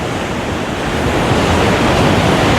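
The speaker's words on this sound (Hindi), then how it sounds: "और नीचे एकदम नदी" A river rushes far below a mountain trekking path on the Sonprayag to Kedarnath route, its loud, steady broadband roar filling the whole stretch without a break.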